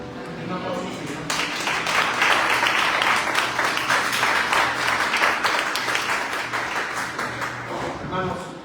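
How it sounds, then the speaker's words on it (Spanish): A church congregation bursts into applause after a prayer, with a few opening claps before a dense wave of clapping swells and holds for several seconds, alongside voices calling out under it. "Un aplauso, Señor."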